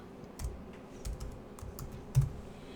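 Computer keyboard keys tapped in short, scattered bursts while a log statement is typed, a few distinct clicks with brief pauses between, quiet and close.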